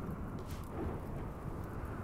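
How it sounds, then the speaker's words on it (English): Thunderstorm in the RimWorld video game, a steady low rumbling roll of thunder with a dense wash of noise filling the short stretch, loud and continuous without any break or voices. "We've got a thunderstorm with no rain."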